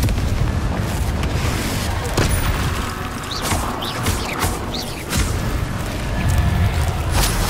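Confringo explosive spell blasts from the video game Hogwarts Legacy, a loud, dense wall of booming impacts that rolls on without a break, with crackling bursts layered over a heavy low rumble.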